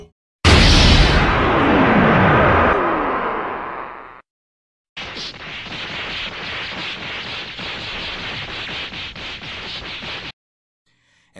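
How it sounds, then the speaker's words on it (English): A gigantic anime explosion from Goku and Beerus clashing in Super Dragon Ball Heroes: a loud booming blast with a rushing roar that stops abruptly, then a long dense rumbling burst after a short silence. "once their fish class, it results in a gigantic explosion"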